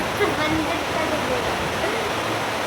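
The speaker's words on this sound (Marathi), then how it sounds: "इतका पाऊस पडतोय मस्त" Heavy monsoon rain pours steadily in Nalasopara, a dense, continuous rushing wash that stays loud and even throughout.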